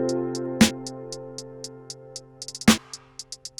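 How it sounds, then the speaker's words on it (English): Trap hi-hat from the Nexus 3 plugin, crisp regular ticks with quick rolling bursts in between, over a steady sustained backing tone and two louder broadband hits, up close with no voices. "So the trap hat sounds like this."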